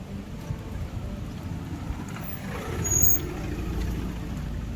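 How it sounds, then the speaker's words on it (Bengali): A vehicle sweeps close past on a windy roadside, a low rumbling swell that builds and peaks briefly before easing back into steady wind noise. "গাড়িটা পুরো আমার পুরো গায়ের উপর দিয়ে গেল"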